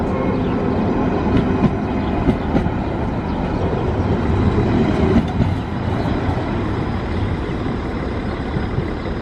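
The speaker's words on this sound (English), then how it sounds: "this is the train we'll be catching tomorrow to complete our journey to Bucharest" A Romanian train at Brasov railway station, with a steady low rumble of rolling stock and faint metallic clatter, heard fairly close and continuous with no voices.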